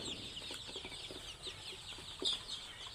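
Several chicks cluck and peep continuously at close range while pecking up rice grains scattered by their owner in a village yard, with scattered louder chirps.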